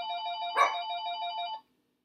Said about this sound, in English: I forgot to take my house phone off the hook.